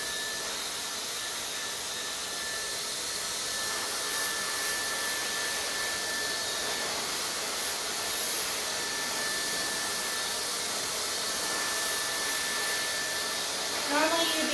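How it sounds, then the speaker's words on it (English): A hair dryer roughs out hair with a hand rather than a brush, blowing as a steady, close, loud whoosh with a constant tone for the whole stretch, without a break. "I'm going to rough dry really quickly with my hand so we can move on."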